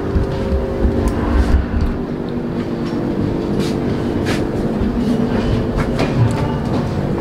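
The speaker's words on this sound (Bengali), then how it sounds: "খড়গপুর স্টেশন ছাড়ছে" A 12245 Howrah–Bangalore Duronto Express rolls out past Kharagpur station, a steady loud rumble of wheels and carriages with rhythmic clickety-clack over the rails, heard from inside the train with no talk.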